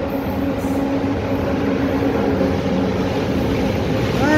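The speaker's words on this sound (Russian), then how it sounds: "это грузовой поезд!" A heavy freight train rumbles past nearby in Belgrade, Serbia, with a steady, loud roar and low droning hum, continuous throughout.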